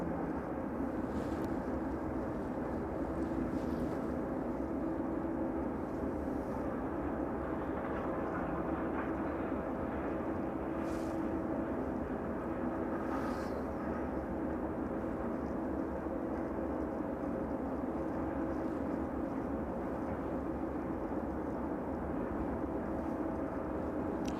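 An aircraft banks right on approach toward runway 27 at East Midlands Airport, a steady, distant engine roar and rumble that holds for the whole stretch.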